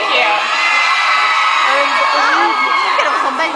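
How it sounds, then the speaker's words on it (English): Fan crowd at a Twilight Saga fan event in Brussels, screaming and cheering loudly and continuously with high-pitched shrieks and whoops, close and dense throughout. "Let them scream as long as they want to."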